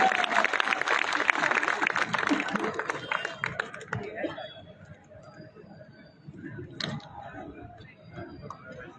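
Applause from a crowd at an outdoor political rally, dense clapping strongest at the start and fading over several seconds, with a voice continuing over it.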